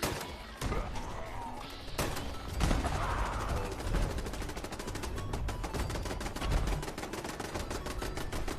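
Automatic turrets in Fallout 76 fire rapid, continuous bursts of gunfire, a dense clattering volley that runs steadily throughout with a few heavier impacts standing out.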